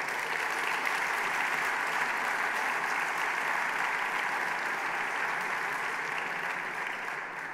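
A crowd at a Hungarian political anniversary event gives sustained, dense applause, steady and loud throughout with no break or voice rising above it.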